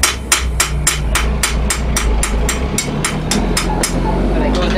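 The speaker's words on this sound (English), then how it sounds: "I'm gonna hammer down the tip" A blacksmith hammers down the tip of a metal piece while making a trowel, with about a dozen sharp, ringing metal strikes in a steady rhythm over a low continuous rumble from the forge.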